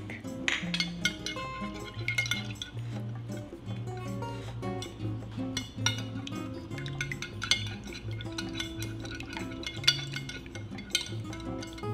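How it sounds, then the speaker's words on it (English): Milk and egg wash whisked in a bowl for Hot Cheetos fried pickles, with rapid clinking and tapping of the whisk against the bowl, close and steady over a faint low hum. "Now we're gonna whisk."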